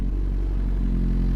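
Suzuki GSX-R motorcycle with variable valve timing, its engine producing a steady low, dense rumble with a constant drone throughout, close and fairly loud, no talk.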